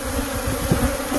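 Bees buzzing close by around the tailgate of a Willys Jeep, a continuous droning hum with a few brief louder passes, no voices.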